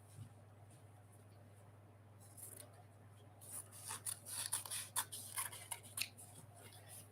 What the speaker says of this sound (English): I'm going to use my Teflon scissors and cut him out